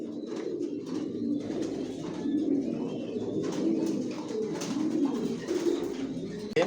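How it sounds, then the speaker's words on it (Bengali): Racing pigeons in a loft coo in soft, repeated low rolling calls that overlap closely and continuously, with a few faint chirps and no speech. "এখানে যে কবুতরগুলো দেখতেছেন এগুলো আমার মাস্টার পেয়ার, রানিং পেয়ার।"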